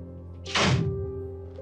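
A door swings shut with a single dull thunk and a short rush of air, heard close against a steady background hum.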